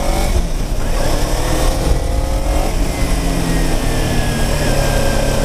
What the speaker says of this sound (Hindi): तो आज मैं ब्रदर का निंजा चलाने वाला हूँ